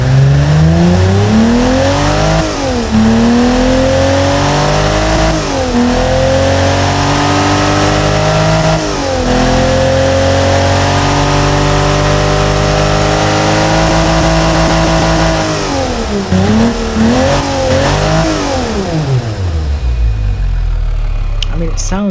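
An inline six-cylinder engine in the Automation car game revs repeatedly, its pitch climbing and dropping through several loud, smooth sweeps before settling and fading near the end, with no other sounds over it.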